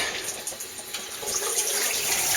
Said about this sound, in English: So we just turn the water back on down here.